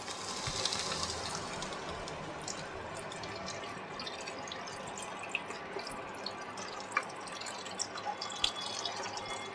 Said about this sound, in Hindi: तो अब डाल देंगे हम इसमें पानी।